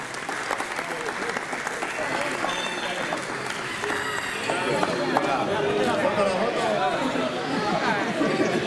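An audience claps at a poultry and pigeon show prize-giving in Albelda de Iregua. The applause is steady and sustained and grows slightly louder partway through, with crowd chatter mixed in.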